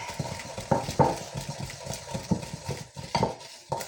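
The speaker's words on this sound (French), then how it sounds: "En utilisant une cuillère en bois comme ça, le but est d'écraser le sucre à chaque tour" A wooden spoon stirs and crushes sugar into unwhipped egg whites in a bowl for a chocolate glaze, giving close, repeated scraping and soft knocking strokes in a steady rhythm.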